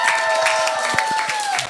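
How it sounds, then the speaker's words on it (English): A crowd applauds players and casters at an esports match, clapping steadily in a dense burst with scattered cheers, fairly close and loud throughout. "Big round of applause for them."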